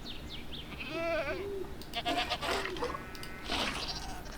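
Goats bleating in the Minecraft TerraFirmaCraft video game, several wavering nasal bleats in a row over a low steady background hum, fairly close and clear with no talk.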